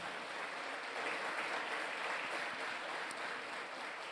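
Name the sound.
congregation applauding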